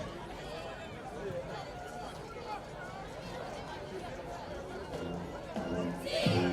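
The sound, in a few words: crowd chatter at a high school football game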